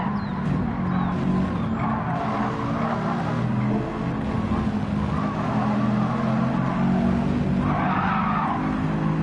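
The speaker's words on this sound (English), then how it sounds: "When you hear that squealing too, you're losing speed." Race car tires squeal and skid continuously at Autopolis in a racing video game, the engine droning beneath steady loud scrubbing across the whole stretch.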